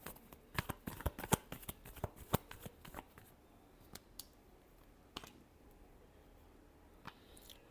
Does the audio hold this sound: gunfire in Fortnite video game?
no